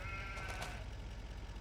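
A sheep bleats in a farming video game, one wavering cry near the start over a quiet low background hum, fairly faint.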